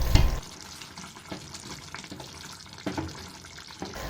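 Coconut milk (gata) simmering in a pan for Filipino laing, a soft steady bubbling and sizzle with a few louder clinks or stirs, heard alone at a moderate level.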